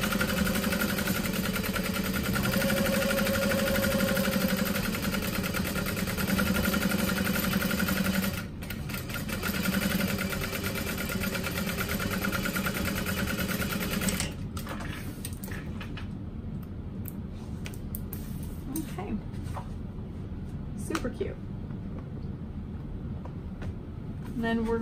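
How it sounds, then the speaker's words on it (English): A sewing machine basts around the outside edge of a crossbody bag, running in a steady whirring stitch for several seconds, pausing briefly, then giving way to quieter handling noises. "I'm going to baste around the outside edge just so nothing kind of pops up while we're sewing it all together."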